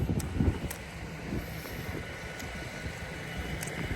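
Cold, dry wind blows outdoors, a steady rumbling buffet against the microphone with a few stronger gusts, continuous and close, with no voices.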